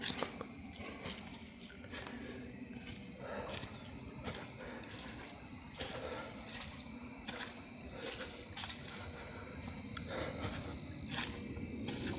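Frogs croak at night near a campsite, a dense, steady chorus of calls, mixed with insect chirring, that keeps going throughout with no voices.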